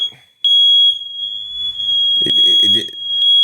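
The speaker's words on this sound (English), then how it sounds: "they doing the fire alarm test in my complex" A fire alarm test in an apartment complex: a piercing, steady high-pitched alarm tone sounds continuously and loudly, with brief louder chirps, while a person speaks over it near the end.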